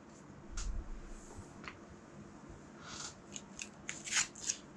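Cards for the Endless Winter board game are shuffled by hand on a table, bursts of crisp riffling and flicking snaps, close and fairly quiet, heaviest in a cluster near the end with no talk.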